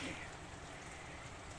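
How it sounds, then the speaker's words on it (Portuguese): Steady rain falling during a heavy downpour over a vegetable garden with pumpkins and cabbages, a faint, continuous broadband hiss with no break. "e a chuva continua."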